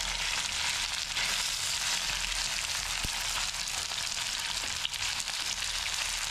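Taro root fries in oil in a pan over low heat, giving a steady, even sizzle that stays close and constant throughout with a couple of faint clicks and no talking.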